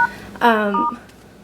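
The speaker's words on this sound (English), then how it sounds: "She's on her phone, guys. That's what you hear." A mobile phone sounds a short burst of electronic keypad tones, close and clear, with a faint voice alongside.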